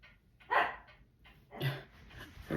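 Dogs in a nearby room bark in short, separate bursts, three or four muffled woofs spaced across a few seconds with quiet gaps between.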